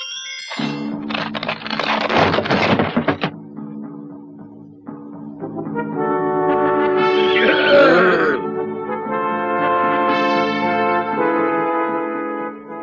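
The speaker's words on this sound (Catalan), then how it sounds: "corren amatents a galop dels seus cavalls, amb tot el seu coratge" Horses neigh and whinny over a rumbling gallop in an animated historical battle scene, loud and sustained with dramatic music-like layers and no talk.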